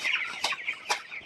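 Farm chickens, some suffering paralysis, cluck close by in a few short bursts, with two sharper squawks punctuating the brief stretch.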